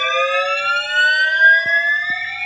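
A building fire alarm sounds continuously, a loud steady electronic tone with stacked harmonics that slowly rises in pitch, with a couple of faint knocks underneath and no talking.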